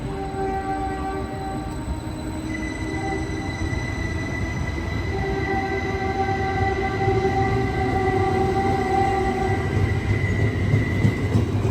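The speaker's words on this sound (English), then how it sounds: "Caltrain 133, highballing out of here" A Caltrain electric commuter train (Stadler EMU) pulls away from Menlo Park Station with a rising whine and humming tones, wheels rumbling steadily and growing louder over several seconds.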